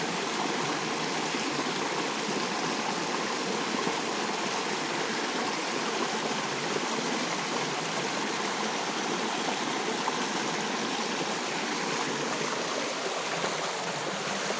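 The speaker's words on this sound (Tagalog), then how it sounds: "ingay ng agos ng tubig" Flowing mountain stream water near a waterfall rushes in a loud, continuous, broadband roar that holds steady without a break, with no voices over it.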